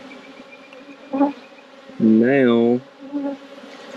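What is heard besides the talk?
honeybee swarm buzzing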